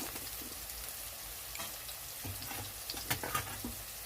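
Green chillies hiss and sizzle in hot frying oil with browned onions while a tilapia fish curry is cooked, a steady close crackle punctuated by a few sharp clinks and scrapes of stirring.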